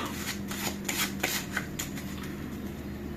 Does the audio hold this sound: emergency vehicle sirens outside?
no